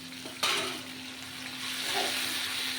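Tomato with cumin seeds and torn green chilli sizzles in hot oil, a sharp burst as the ingredients hit the pan, then a steady close frying hiss with no talk.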